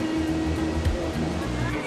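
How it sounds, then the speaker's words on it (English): A river rushes steadily near a house in Cuenca, Ecuador, a dense, even whooshing flow that fills the short moment, with a voice faintly present. "can you hear the river? You hear the river?"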